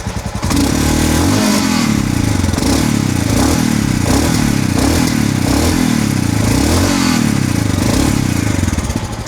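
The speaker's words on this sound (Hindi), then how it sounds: "Now let's rev it a little bit." A Royal Enfield Scram 440 motorcycle engine revs up close in repeated blips, each throttle burst rising and falling over a steady, loud engine drone with a popping exhaust note and no talk.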